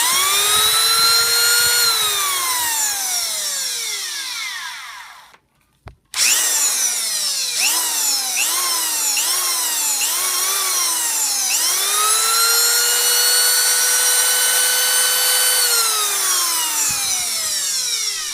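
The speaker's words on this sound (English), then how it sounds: "I hope you enjoyed the restoration of the vintage Fein drill" A restored vintage Fein ASK636 electric drill runs alone and close, its motor whining up to speed, then dropping briefly to silence before being switched on again several times, rising and falling in pitch.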